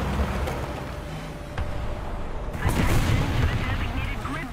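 Friendly artillery in the War Thunder video game booms and rumbles as a continuous low, heavy barrage, growing louder and denser toward the end amid engine noise.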